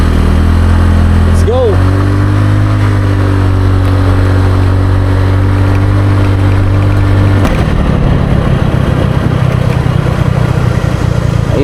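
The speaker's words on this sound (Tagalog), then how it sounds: "ayos yung motor natin one click" Motorcycle engine idling steadily after starting, a loud close putter that runs for several seconds before the tone changes and the motor revs off into a rougher running sound; a short voice-like sweep appears near the start.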